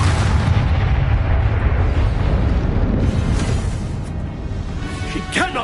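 The Incendio fire spell cast in Hogwarts Legacy, heard as a loud, sustained fiery roar and rumble that fills the clip, with a sharper burst near the end.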